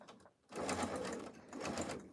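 A sewing machine stitches a quilt at presser-foot width from the last flange, a soft steady whirring that starts after a short quiet moment and continues with slight dips.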